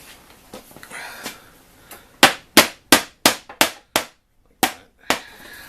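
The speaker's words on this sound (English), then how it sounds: "If you can't get it in, a hammer tap will take care of it." A hammer taps a wooden chair joint during repair, with about nine crisp, sharp knocks in an uneven rhythm, loud and close, after a few softer handling sounds.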